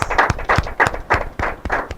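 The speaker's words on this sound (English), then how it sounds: "A big round of applause for both schools." Audience members at an inter-collegiate quiz and debate competition clap for both competing schools in a quick, steady rhythm of close, crisp hand claps, about three per second.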